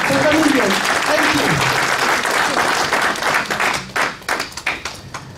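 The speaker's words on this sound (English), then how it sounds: "we would like to give a big round of applause to each single one of you for coming here" An indoor audience at an open mosque day at the Islamic Society of NW Suburbs claps steadily, then the applause thins into scattered individual claps as it dies away.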